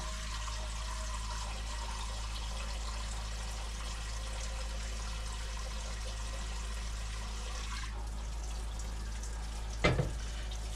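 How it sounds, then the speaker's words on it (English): A cooking pot is filled with tap water for lasagna noodles, a steady rushing flow that runs for several seconds and then shifts near the end, followed by a brief clunk. "I need to put on a pot of water."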